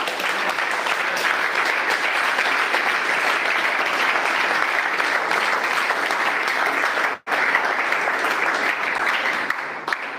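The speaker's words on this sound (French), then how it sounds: "Applaudissez pour vous-même." A church congregation applauds for itself in a continuous, loud wash of clapping, briefly cutting out for a moment before resuming strongly to the end.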